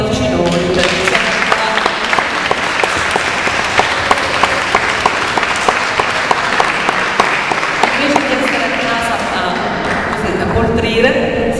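An audience at an art exhibition opening breaks into loud, sustained applause, dense clapping for about ten seconds before tapering off near the end.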